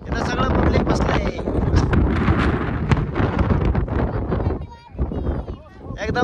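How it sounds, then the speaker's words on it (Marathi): Strong cold wind gusting across the microphone at a dam viewpoint, loud and continuous broadband roaring with brief lulls, under people talking. "या साईडला कसं एकदम थंडगार वारा सुटली"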